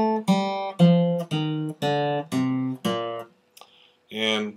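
An electric guitar plays a single-note phrase, about seven short, clear plucked notes in a steady rhythm, close and distinct, then a brief pause and one final note, with no talking.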